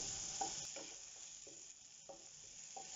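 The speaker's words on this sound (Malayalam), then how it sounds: "തക്കാളി ഏകദേശം ആകുന്നിടം വരെ നമുക്ക് നന്നായിട്ട് ഇളക്കിയെടുക്കാം." Tomatoes fry in a pan while a spoon stirs them in repeated scraping strokes, each roughly half a second apart, over a steady close sizzle.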